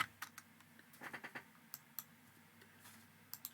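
Keystrokes on a computer keyboard during 3D animation software work, quiet and close, in short clustered bursts of clicks with gaps between them.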